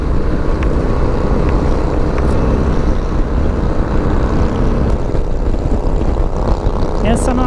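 A Shadow 600 motorcycle engine rumbles on an outdoor group ride, a continuous, loud, close drone that stays steady throughout with no breaks.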